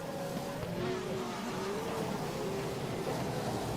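Simulated Formula 1 engines in the rFactor racing game whine through a race at Australia. A faint, wavering tone rises and falls over a dull background rumble.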